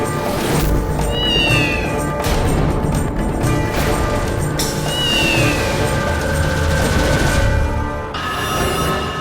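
A black cat meows twice outside a bungalow, each cry a clear rising-falling wail standing out against a busy background of other sound.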